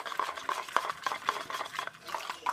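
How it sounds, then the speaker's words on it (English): Spoon stirring hot water in a container to dissolve powder, a steady run of light clinks and scrapes repeating roughly every half second, close and moderately quiet with no talking. "Let's stir it. So let's make sure everything dissolves."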